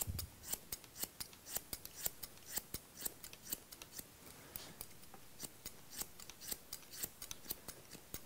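Scissors snip through a man's short hair in quick, steady, crisp cuts, close by but quiet, with no talking.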